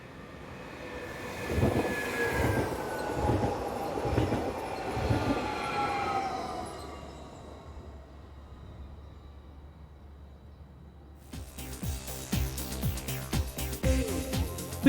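A Swiss class 523 electric multiple unit, number 065, pulls in on a service for Brugg, its loud rolling rumble and rising whine swelling over several seconds and then easing into a steady low hum as it slows.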